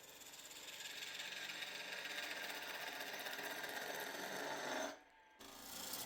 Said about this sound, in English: This is a peeling cut.